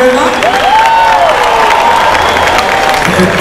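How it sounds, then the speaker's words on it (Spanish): Audience applause and cheering fill a salsa concert hall, a dense, loud, steady wash of clapping with crowd noise and faint tonal sounds running through it for a few seconds. "Un aplauso, por favor."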